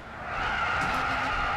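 Car tires skid and squeal under braking in the racing video game Gran Turismo 6, a loud, sustained screech over engine noise lasting the whole moment, with no talk.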